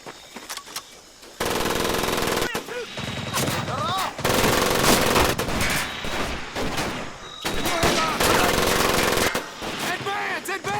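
Sustained machine-gun suppressing fire roars almost nonstop in the World War II shooter Medal of Honor Pacific Assault, loud and close, with layered bursts of gunfire and shouted voices mixed into the din.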